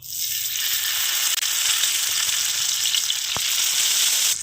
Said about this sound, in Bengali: লাউ পাতার পাতুরিগুলো এবারে আমি তাওয়ায় দিয়ে দিচ্ছি।